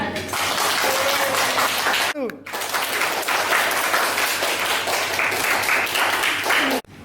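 Applause in an Indonesian school classroom, as students clap for a group representative coming forward to receive a prize. Steady, dense clapping fills most of the clip, with a brief break near the middle and a sharp cutoff at the end.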